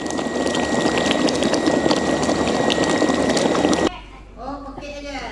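Dried shrimp tipped into a pan of onions frying in a charity kitchen, a loud continuous sizzle that drops away abruptly near the end, followed by a voice speaking.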